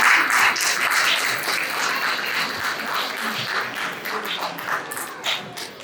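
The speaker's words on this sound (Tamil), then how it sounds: "இவங்க எல்லாருக்கும் ஒரு பலத்த கைத்தட்டல்கள் கொடுத்துடலாம்" An audience at a Pongal celebration gives sustained applause, a dense burst of many hands clapping that eases gradually toward the end.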